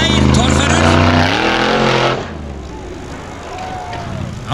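Formula offroad car in Iceland pulling onto the track, a loud close engine drone rising in pitch for about two seconds, then dropping away to a fainter rumble and crowd ambience.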